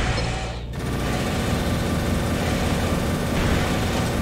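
Continuous machine gun fire from a mech in the video game Armored Core 3: Silent Line, a dense, loud, unbroken rattling roar that starts after a brief dip and carries steadily throughout.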